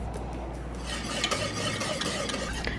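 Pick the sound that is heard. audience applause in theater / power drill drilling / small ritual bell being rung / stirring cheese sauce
stirring cheese sauce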